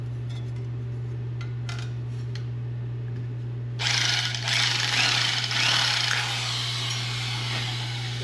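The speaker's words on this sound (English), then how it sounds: "I gotta grind a bit of that square" A grinder bites into a rusty steel panel on a 1970 Chevelle under restoration: after a few seconds of quiet hum, a loud, harsh continuous grinding starts and holds to the end.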